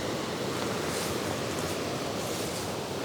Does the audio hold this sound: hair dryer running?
no